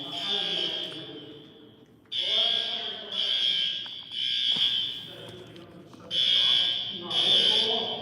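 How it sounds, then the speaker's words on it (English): Newly installed bathroom alarm in a city council chamber, a loud steady high-pitched electronic tone sounding in repeated bursts with short gaps, while people talk underneath. "Yeah, these are those new bathroom alarms."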